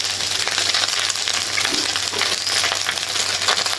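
Steady, close sizzling of food frying in a hot pan, a dense crackling hiss that continues without pause and with no talking.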